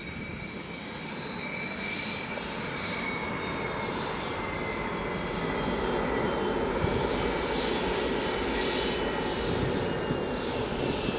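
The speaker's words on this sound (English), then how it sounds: "we can hear them lining up there at the end of the runway" Airliner engines roar in a steady, distant rumble as planes line up at the end of the runway at Leeds Bradford Airport, the noise slowly swelling with a faint high whine on top and no talking.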